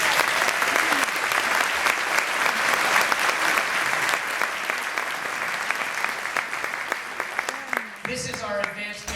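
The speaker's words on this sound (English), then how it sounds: "Would you please give them a big round of applause?" Sustained audience applause at a school band concert for elementary students, loud and dense clapping filling the hall, tapering near the end as a voice begins speaking.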